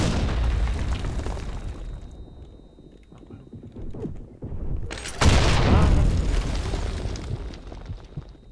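A bomb detonates in the video game Blackshot, a sudden loud broadband boom with a long rumbling, crackling tail that follows a stretch of low, rumbling game noise with faint creaks.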